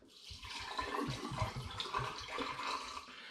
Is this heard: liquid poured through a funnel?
yes